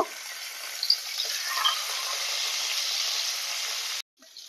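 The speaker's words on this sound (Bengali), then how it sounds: "একই রকম ভাবে বাকি চিংড়ি মাছগুলোকেও ভেজে নেব।" Shrimp fry in hot oil, making a steady, fairly loud hiss and sizzle that cuts off abruptly near the end.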